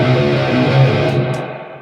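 Electric guitar played through a Laney Ironheart 120 tube amp head with death metal distortion pedals, grinding out heavy metal riffs as a loud, thick, sustained wall of saturated chords with no gaps.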